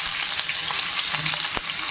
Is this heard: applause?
no